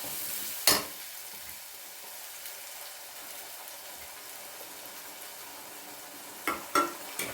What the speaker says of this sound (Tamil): இப்போ நான் வதக்கும் போதே அந்த பூண்டு வாசனை அவ்வளோ நல்லா இருக்கு.